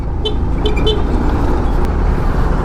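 A Honda XRM 125 FI motorcycle overtakes on a dusty, potholed bypass road amid a constant loud engine and road rumble, with three short horn toots early on.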